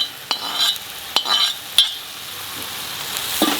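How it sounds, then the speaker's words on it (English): Tender flat beans fry in a pan, a bright close sizzle broken by a few sharp scrapes and clinks of the stirring spoon against the metal. "Stir it."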